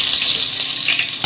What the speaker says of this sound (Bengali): এইভাবে আলুগুলো ভেজে নেব।